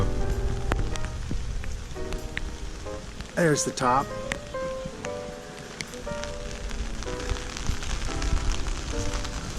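Rain falling steadily in the totem park at Sitka, Alaska, a continuous close patter on surfaces with someone talking over it intermittently.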